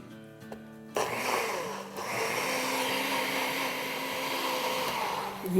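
After a short hum, a kitchen blender with a tablespoon of water in it for cleaning whirs on loudly and keeps running with a steady, harsh mechanical whine, its pitch shifting slightly.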